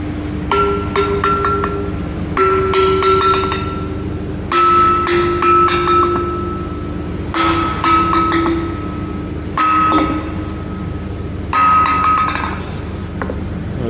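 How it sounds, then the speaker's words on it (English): Sledgehammer blows on a broken heavy steel part of a ten-ton machine during a welding repair: about six loud, ringing metallic clangs, each followed by a sustained tonal ring, spaced a couple of seconds apart. "going to crack this with a sledge on the opposite side and open it out on its weak, open it up on its weak side and see where it breaks"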